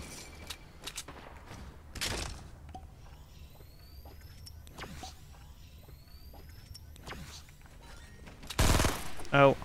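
Gunshots in the video game Fortnite: a few sharp, scattered bursts over quiet game ambience, with a louder close cluster of shots near the end.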